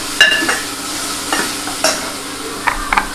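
Mutton paya masala with coriander and mint stirred in a pan, giving a close, steady sizzle with several sharp scraping strokes of a spoon against the metal.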